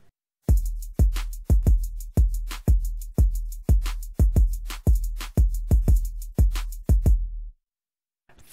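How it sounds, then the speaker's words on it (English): Hip hop drum beat from a production session, with booming kick hits in a steady even pulse and crisp bright tops, heard alone before stopping near the end. "And this is what the drums and the beat sound like."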